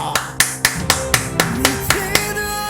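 Eight or so sharp, evenly spaced claps ring out over a steady backdrop of game music during a fight in the MMORPG Raven, loud and close with no talking.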